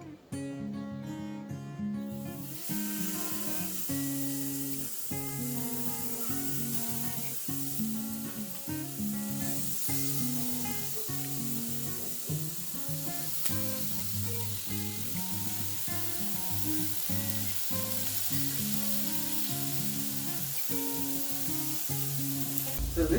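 Chicken shish kebab sizzles on the grill with a continuous, loud frying hiss and crackle, under steady background music throughout.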